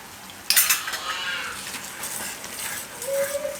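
Spoon stirring besan capsicum curry in a pan, with a sharp metallic scrape at the start followed by softer intermittent scraping and clinks against the pan, close and alone.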